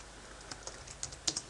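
Keystrokes on a computer keyboard while entering a router configuration command at the command line: a handful of quiet, sparse clicks in an irregular rhythm, close by, with no talking.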